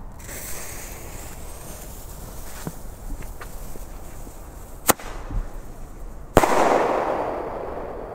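Vico Flashing Thunder firecracker at a New Year's Eve session: a long quiet fuse stretch with faint crackles, a sharp crack near five seconds, then one loud salute bang at six seconds followed by a decaying rumble.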